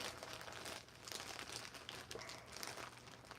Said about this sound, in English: sorry if that's really loud, this plastic bag.